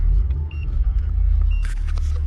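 Steady low engine rumble of a modified Volkswagen Passat B6 with a 2.0 FSI engine idling with the key removed, close by and continuous, with faint clicks and small background noises on top.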